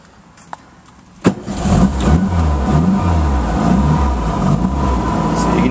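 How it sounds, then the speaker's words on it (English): A classic car's engine cranks briefly after a small click, catches with a sharp burst and settles into a loud, steady, rumbling run close by, with no talking over it. "I'm just going to start the car up so you can see that she starts up right away"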